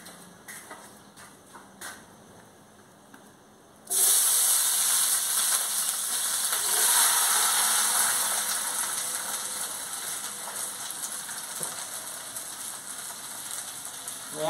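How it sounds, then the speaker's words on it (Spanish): Food drops into hot oil in a clay pot with a sudden loud sizzle that settles into a steady crackling fry, after a quieter stretch of faint kitchen handling. "ya puse mi cazuela, ya está el aceite caliente, se lo voy a echar"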